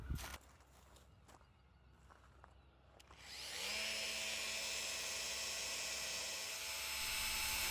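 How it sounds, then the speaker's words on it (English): An oscillating multi-tool with a standard cutter blade cuts into a sailboat's rudder shell, starting as a sustained high buzzing whine partway through after a few faint knocks and handling noises in a quiet space. "When it finally came time to open it up, you can see I just used a multi-tool and standard cutter blades for this."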